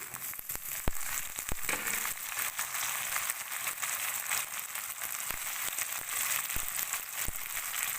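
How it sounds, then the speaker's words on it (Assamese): Chopped tomatoes frying in a pan with ginger and garlic for paneer sabji, a steady close hiss punctuated by sharp clicks and spatula knocks at irregular intervals. "বিলাহীখিনি দি পেলাই অকণমান সময় ভাজি ল'ম।"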